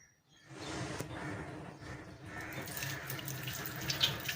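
Water runs steadily from a kitchen tap fitted with a shower-head attachment, a close, continuous broadband splash and hiss into the sink with slight shifts in flow and no talking.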